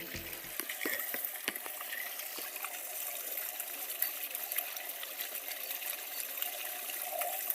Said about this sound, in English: get the garden hose, and flush the engine as much as we can